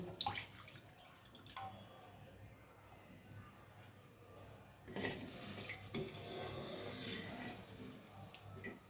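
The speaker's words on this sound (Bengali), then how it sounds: "এবার আমি জল দেব এটা ফোটানো জল ছিল" Boiled water is poured into a pan of vegetable curry after the oil has separated from the fried spices, a soft splashing and bubbling rush that starts midway and carries on to the end, fairly quiet.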